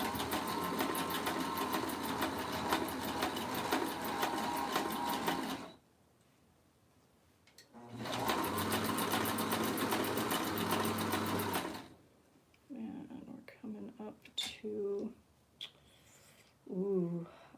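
A sewing machine stitches the gusset of a pair of lingerie panties in two steady bursts of rapid, loud whirring, each about four to six seconds long, with quiet gaps between them and a few soft handling noises afterward.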